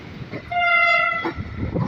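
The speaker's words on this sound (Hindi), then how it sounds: "हमारी train 152 down Shah Latif express Karachi cantt railway station पर अप्रोच बना रही है" An EMD diesel locomotive hauling the Shah Latif Express on its approach to Karachi Cantt station sounds a single clear horn blast lasting under a second over the low rumble of the moving train.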